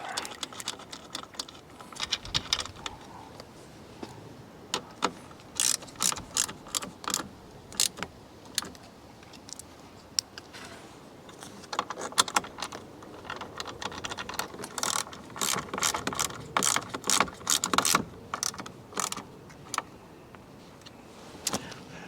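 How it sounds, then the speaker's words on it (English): A tool drives two T40 Torx bolts into a Jeep Wrangler's Mopar soft top brackets, giving a run of sharp ratcheting clicks and metallic taps in irregular bursts at close range. "we basically need to put 2 T40 torque bolts basically into place to secure the soft top to those brackets"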